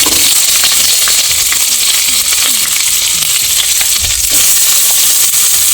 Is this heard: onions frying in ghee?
yes